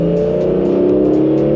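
A car engine revs and drones steadily from inside the moving vehicle, loud and close, with sharp ticking bursts on top and no talking.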